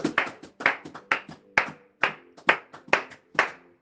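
Church congregation clapping in a steady, even rhythm, about nine crisp claps roughly half a second apart, loud and close, with a faint tonal hum underneath and no speech.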